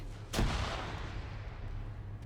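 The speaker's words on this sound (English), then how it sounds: "And a Grenadier round just came in." In the Arma 3 game, an incoming grenadier round lands with one sharp, heavy boom and a rumbling tail that fades slowly, loud and close, with no speech.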